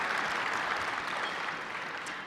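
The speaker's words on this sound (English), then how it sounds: "Now, Mike, a round of applause, you can go ahead." Audience applause at an opening-day keynote during a satellite industry show week, a steady dense wash of clapping heard throughout at moderate level with no speech.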